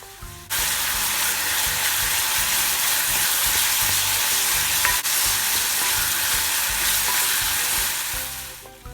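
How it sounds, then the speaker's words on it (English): Seasonings hit hot coconut oil with a loud, sudden sizzle that holds as a dense, steady frying hiss while being stirred, broken by one sharp clack from the spoon on the pan. "So I'm just adding my seasonings to some coconut oil, and I'm going to just stir until it gets translucent"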